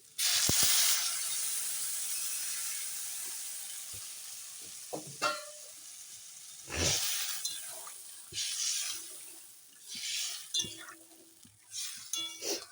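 Loud hiss and sizzle as water hits fried spices in a hot pan for a fish-head curry with rohu, the burst fading into softer bubbling with a few utensil clinks and stirring.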